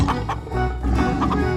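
A cartoon chicken clucks in a 3D animal slide video game, several short bursts of loud, close clucking over a steady game music bed with no talk.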